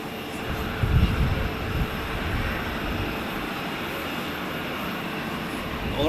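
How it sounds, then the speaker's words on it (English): Jet airliners at Zurich Airport, with long-haul planes waiting to depart, produce a steady broad engine roar at moderate distance, swelling briefly near the start. "we have 4 long-haul airplanes ready for departure behind there"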